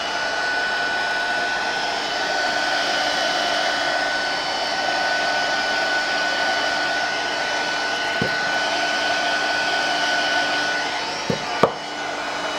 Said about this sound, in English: So I'm just going to take my craft heat gun.